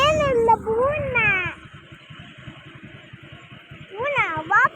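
A cat meows repeatedly at an outdoor spot by the Anaikaraipatti dam, in two close, loud bursts of drawn-out wavering cries at the start and end, with children and adults talking throughout.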